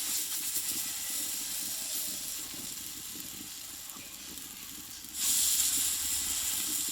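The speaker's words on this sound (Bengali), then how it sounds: "এখানে কিন্তু একবারে কিন্তু অনেক কিছু করে কিন্তু ভেজে নেওয়া হবে এগুলো" Wheat-flour tiffin snacks frying in hot oil, a steady close hiss and sizzle throughout that jumps louder and brighter near the end as more batter goes into the pan.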